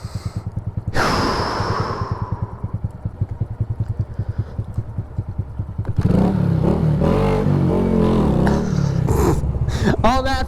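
A Honda Grom's small engine idles with a steady low thump, then revs hard and loud for a wheelie attempt, with clattering and a voice close by.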